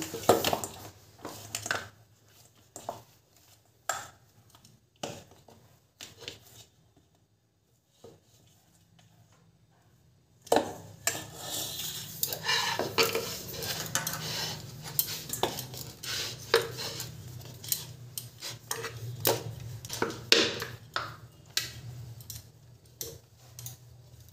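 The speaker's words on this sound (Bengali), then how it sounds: "এরপরে এখান থেকে আমি লেচি কেটে নেব।" Kachori dough is cut into portions on a hard surface, giving sparse faint clicks and taps, then a quiet pause, then a denser run of close knocks and scraping handling sounds, with no speech.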